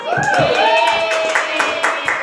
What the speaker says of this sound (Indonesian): Nah, tepuk tangan buat Giri.